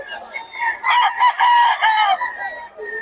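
A stag rooster at a seller's place crows loudly and close by in a few drawn-out bursts, with faint talk around it.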